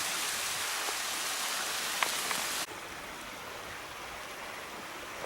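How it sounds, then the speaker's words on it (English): A steady broadband wash of flowing water from a stream below a waterfall along a wooded trail, constant and moderately loud, dropping slightly in level partway through. "I can still hear the water."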